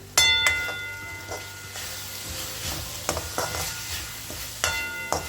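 Matki sprouts and potatoes frying in oil in a pan, a soft continuous sizzle broken by several sharp clinks and scrapes of a stirring spoon against the vessel.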